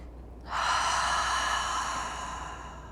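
A long audible exhale during a yoga exercise, a breathy rush starting after a brief quiet moment and slowly fading over a couple of seconds, close and clear with no talk.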